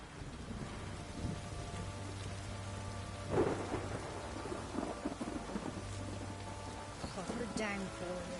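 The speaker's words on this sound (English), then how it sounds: "Proper downpour this is." Heavy downpour and rolling thunder in The Witcher 3 video game, a steady hiss of rain on surfaces with a louder thunder crack partway through, under quiet game dialogue.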